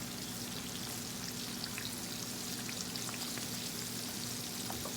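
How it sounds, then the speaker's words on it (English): Short ribs frying in a pan of oil, a constant quiet crackle and sizzle with scattered pops, close and uninterrupted. "put it in the pan to fry"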